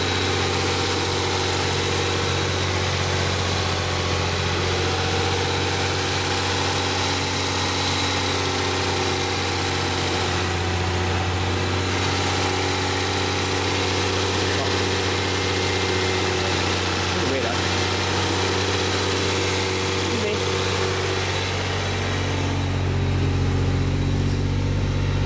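An older project car sits idling, its engine a steady, continuous low hum with a faint vibration running throughout at close range, with no talk over it.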